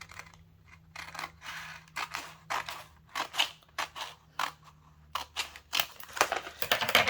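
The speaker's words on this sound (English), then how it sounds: "Then I'm going to cut off what I don't need here." Scissors snip through craft material for a Christmas project made with a Cricut, a close series of crisp, irregular cuts with short pauses between them, growing busier toward the end.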